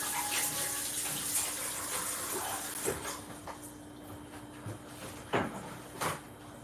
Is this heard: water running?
yes